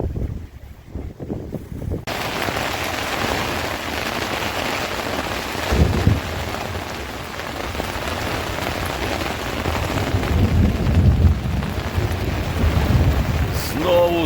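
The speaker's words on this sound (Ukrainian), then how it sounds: "заливає нас, блимає, гримить, капає, зі стріхи капає" Heavy rain pours in a thunderstorm, with thunder rumbling and water dripping from the eaves of a thatched roof, a loud, dense wash of rain that swells in places with low rumbles.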